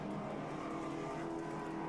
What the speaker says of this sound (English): Let's try to listen to his car go by.